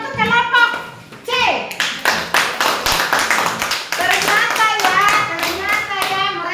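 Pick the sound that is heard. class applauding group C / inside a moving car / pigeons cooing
class applauding group C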